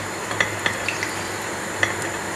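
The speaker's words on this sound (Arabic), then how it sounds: "نحط الكعبة ديريكت في الزيت" Bambalouni dough frying in hot oil, a steady soft sizzle with a few light clicks of a utensil against the pan.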